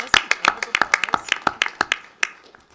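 Sparse hand clapping from a small group at a board meeting honouring a Minnesota Icon Award recipient, a dozen or so close, uneven claps that thin out and stop after a couple of seconds.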